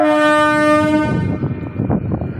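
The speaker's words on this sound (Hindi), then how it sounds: "ट्रेन चलती हुई है" Passenger train at Fatehpur station on the Subedarganj to Kanpur line, a loud horn blast for about a second, then heavy rumbling and clattering of the moving carriages close by.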